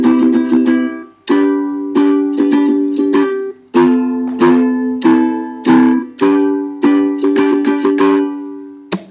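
Close ukulele strummed alone through a song's chord progression, a steady run of bright, evenly counted strums with short gaps between chord changes.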